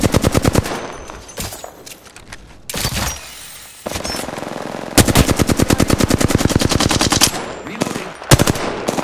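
Rapid automatic gunfire in a shooter video game, long loud bursts of closely spaced shots broken by brief pauses, heavy and near throughout.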